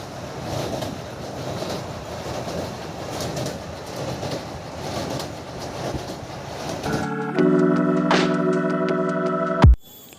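A passenger train runs through the evening in India with a steady rumbling, clattering roar for about seven seconds. It then changes to a louder, tonal hum with a sharp squeal or horn-like tone and ends abruptly.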